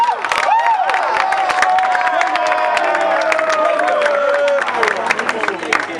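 A crowd at a gathering at Legon claps and cheers continuously, loud and close, with voices and occasional whoops mixed into the dense babble throughout.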